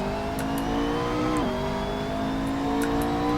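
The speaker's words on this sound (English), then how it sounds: "And bouncing off the limiter." Engine of a GT3 race car in Assetto Corsa, held hard against the rev limiter at Zandvoort: a loud, steady, buzzing drone with one brief dip in pitch partway through.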